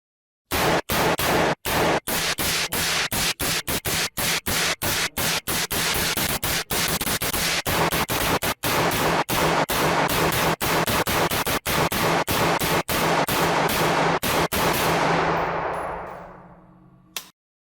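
A long, rapid string of sharp, loud AR-15 rifle shots at a shooting range, cracking one after another with barely a pause, each ending in a brief echoing tail.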